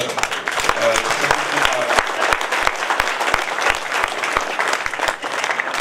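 Sustained audience applause fills a natural farming lecture hall, a dense, steady wash of many hands clapping close by, with a voice faintly present beneath it.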